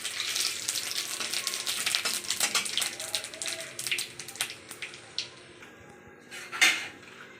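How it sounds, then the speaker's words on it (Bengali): Radhuni, nigella seeds, dried red chilli and bay leaf hit leftover fish-frying oil for a Bengali fish curry, a bright crackling sizzle that is busy at first and then thins out, with a few utensil clinks. "মাছের তেলের মধ্যে রাঁধুনি কালো জিরে, শুকনো লঙ্কা, তেজপাতা দিয়ে দিচ্ছি মাছ ভাজার তেলের মধ্যে"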